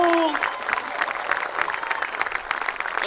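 A crowd at a community event in Omaha applauds for someone, with steady clapping and crowd noise after a voice trails off at the start.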